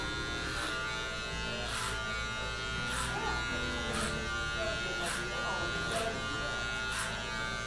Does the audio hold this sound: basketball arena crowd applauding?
no